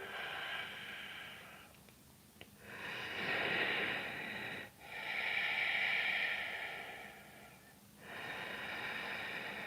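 Deep, slow breathing held in a yoga pose, three long airy breaths close to the microphone separated by brief quiet gaps, soft and steady with no speech.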